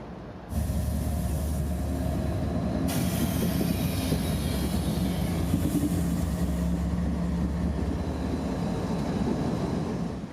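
A heavy freight train hauled by GE Evolution locomotives rumbles past close by at night in Tampa, Florida, a steady low roar of engines and rolling wagons with rattling wheels throughout.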